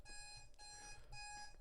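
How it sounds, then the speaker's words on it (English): A timer alarm rings in three rapid electronic bursts with a tonal, buzzing quality, heard faintly over background hum. "That's the timer going off."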